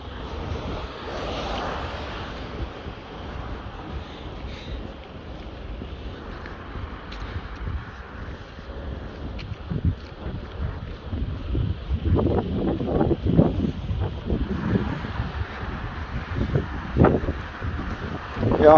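Strong wind in central Bergedorf buffets the microphone in heavy, continuous gusts, with a low roar that swells louder toward the end.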